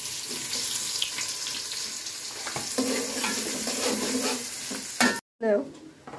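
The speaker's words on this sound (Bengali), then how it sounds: "খিচুড়ি রান্নার জন্য এখানে পেঁয়াজ দিয়ে দিচ্ছে, সরিষা তেল দিয়ে কিন্তু খিচুড়িটা রান্না করতেছে" Onions frying in mustard oil for khichuri, a steady close sizzle with repeated scraping and stirring in the pan.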